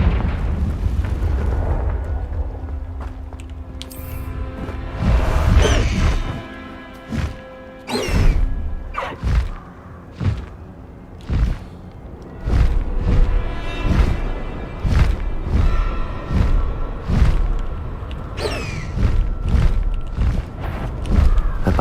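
Repeated Confringo blasting-curse explosions in the game Hogwarts Legacy: a long series of loud booms and thuds spread out in an irregular rhythm over a rumbling low background.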